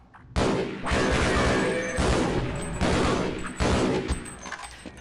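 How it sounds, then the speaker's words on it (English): Loud gunfire and explosions erupt in the video game Half-Life as explosives are shot during tram maintenance, several heavy booming blasts with crackling shots rolling one after another in rapid succession. "Just shoot all the explosives, it's safer that way."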